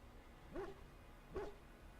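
A dog in the video game Dragon Age: The Veilguard gives two short, soft barks about a second apart, faint and alone against quiet game ambience.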